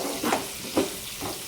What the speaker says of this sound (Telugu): వంకాయ ముక్కలు వేసిన తర్వాత ఒకసారి ఇవంతా మళ్ళీ బాగా కలుపుకోవాలి.